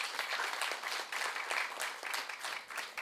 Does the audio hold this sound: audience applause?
yes